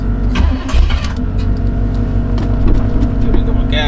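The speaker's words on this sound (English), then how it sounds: "let's go ahead and get this car started." A Cadillac DeVille engine cranks and catches, then runs at a loud, rough idle close by, with a voice heard faintly alongside.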